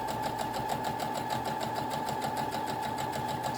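Continuous close-up whir of a sewing machine stitching a straight line after rethreading and a bobbin change, its needle pulsing in a fast, even rhythm with no pauses.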